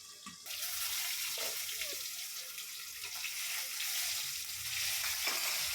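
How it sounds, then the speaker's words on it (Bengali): Hilsa fish head sizzles in hot oil in a covered pan, a steady bright frying hiss with occasional pops and spatters, close and continuous after a brief quieter start. "আমি মাছের মাথাটা ভেজে নিলাম, ইলিশ মাছের মাথা।"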